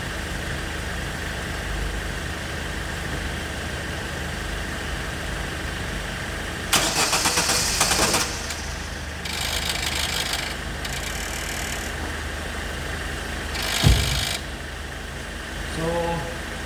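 A 2006 Opel Zafira with a suspected faulty starter motor or fuel pump, cranking in several short, harsh bursts separated by pauses, with a brief low thump near the end.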